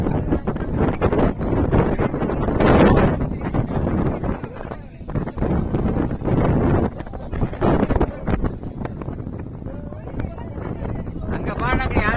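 Wind buffets the microphone with a steady rushing roar on a boat ride during a Pancha Dwarka pilgrimage journey, while people talk throughout.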